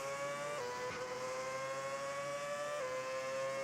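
A race car engine whines high and sustained as the driver lifts off the throttle, pitch dropping in two clear steps, with steady track noise underneath.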